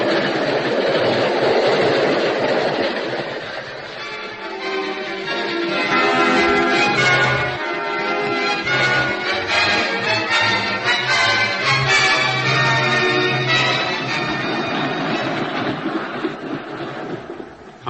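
A train rolls through a station in an old-time radio drama effect, a loud continuous rumble with rhythmic clatter of wheels, swelling and fading over about eighteen seconds with no voices.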